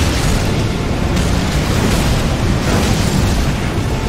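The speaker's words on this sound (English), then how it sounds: "I don't know where the hell that explosion came from." Explosion in the video game Elden Ring amid a lava-filled area, a loud sustained roaring blast and rumble that fills the whole moment without any speech.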